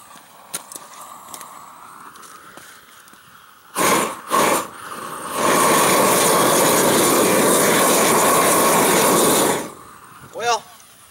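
A propane weed burner torch melting ice outdoors gives a loud, steady roaring whoosh for several seconds after a couple of short bursts, with quieter ambient sounds and a few faint noises before and after.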